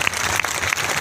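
A crowd claps at a political event in Kaushambi attended by a cabinet minister, a brief, fairly loud burst of dense applause with a few sharper claps standing out.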